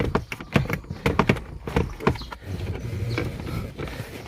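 Plastic glove box of an Isuzu D-Max dashboard being pulled free, giving a run of close clicks, knocks and rattling scrapes, followed by softer handling rustle.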